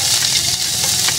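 Garlic hits hot oil in a pan for a Filipino field-frog dish, giving a short burst of bright, close sizzling with a couple of soft stirring scrapes.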